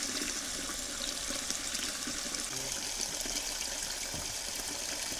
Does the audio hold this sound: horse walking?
no